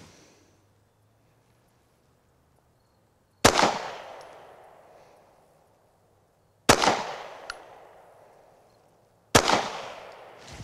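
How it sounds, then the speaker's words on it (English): Three sharp pistol gunshots fired singly about three seconds apart during a three-shot drill at nine steps, each loud, close crack followed by a decaying echo, with quiet between. "three shots"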